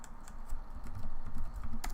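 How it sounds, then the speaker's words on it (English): Rapid clicking of keys on a computer keyboard, steady irregular keystrokes close by in a quiet room with no voices. "sorry, I'm typing."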